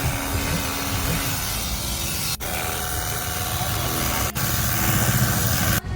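A double-battery pressure washer runs close by with a dense, steady hiss and motor whine, cutting out briefly two or three times before surging back at the same level.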